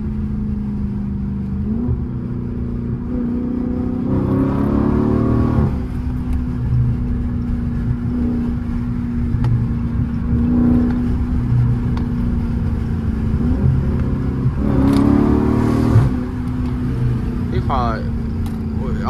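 A Dodge Charger Scat Pack, driven with its resonators still fitted, holds a loud, steady engine drone inside the cabin and rises in short revving pulls twice. Talk runs over the engine the whole time.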